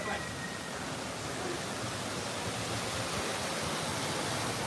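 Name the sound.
waterfall at Disney's Wilderness Lodge resort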